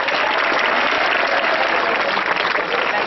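Schoolchildren at a quiz applaud a correct answer, steady, dense clapping from a group filling the room at a constant loud level.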